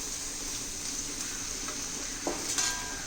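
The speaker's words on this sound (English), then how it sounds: "Mix it well." Tomato rice is stirred in a pan over a quiet, continuous sizzle, with a few soft scrapes and clinks of the utensil against the pan toward the end.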